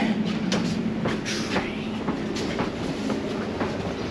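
A London Overground Suffragette line train runs with a steady rumble and faint rhythmic wheel clatter, heard from inside the carriage, loud and continuous.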